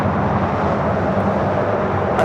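A United Airlines 787-9 Dreamliner takes off at LAX with a steady, loud broadband jet roar that holds constant throughout and stays close and unbroken.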